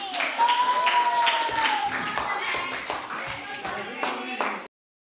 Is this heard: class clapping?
yes